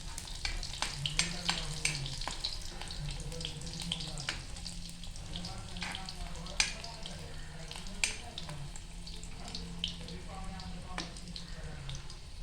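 Onion dropped into garlic frying in a pan for a prawn dish, giving a steady sizzle with scattered stirring clatter and a few sharp clicks, talk running underneath throughout.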